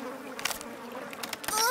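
Cartoon flies buzz in irregular bursts, the drone swelling and fading as they dart around, fairly close; a character's voice chimes in briefly near the end.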